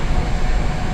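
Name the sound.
Russian metro train running on curving tracks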